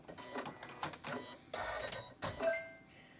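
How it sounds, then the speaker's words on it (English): A Janome embroidery machine stitches a lace coaster, finishing the heart in the centre; quiet mechanical whirring comes in short bursts and pauses, with a faint beep near the end. "just finishing that off."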